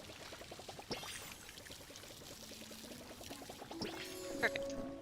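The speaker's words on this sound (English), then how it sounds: "And then we water everything." Plants being watered in the video game Palia: a splashy pouring stream runs for several seconds under soft, steady game music, with a few brighter chimes near the end.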